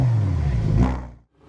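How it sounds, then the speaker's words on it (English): Lamborghini Huracan Performante V10 engine letting out a brief loud rev that swells and then cuts off abruptly into near silence. "there's nothing like a little Huracan Performante V10 in the morning"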